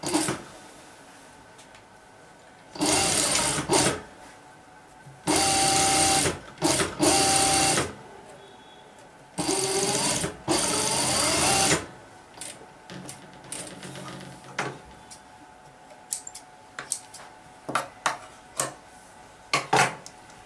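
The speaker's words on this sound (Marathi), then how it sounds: "आता आपण या बाहीला शिवून घेणार आहे." A sewing machine stitches a designer sleeve in several loud, close bursts of fast whirring, separated by quiet pauses with small handling clicks and taps.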